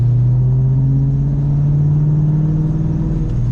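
A Ford Mustang with a worn pulley heard from inside while driving, a steady low engine drone with a faint rhythmic whirring note riding on top, no talking.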